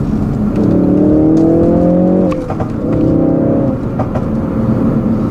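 A 2016 Ford Focus RS engine pulls hard through second gear on a winding road, a loud rising drone that climbs in pitch, dips briefly at a shift or lift near the middle, then surges again, steady and close with no talk.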